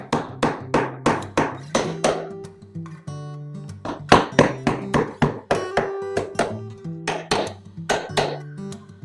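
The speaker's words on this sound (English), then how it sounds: "I'm going to give this a little bit of glue and hammer it in" A beehive outer cover from a hive kit is hammered back together in steady runs of sharp, ringing close-up hammer blows with brief pauses between them.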